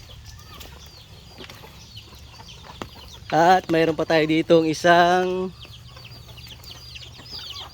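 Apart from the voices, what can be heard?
hen clucking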